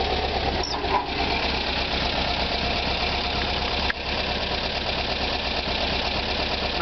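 A 1977 Volkswagen Westfalia engine idling with stock dual carburetors, a steady, even mechanical chugging with a busy rattling texture, close and continuous with no talk.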